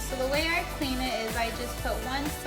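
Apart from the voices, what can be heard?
No distinct noise like a dog, phone or traffic.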